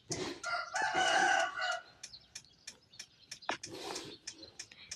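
A rooster crows in a chicken video game, one strong drawn-out cock-a-doodle-doo near the start followed by scattered short clucks and clicks.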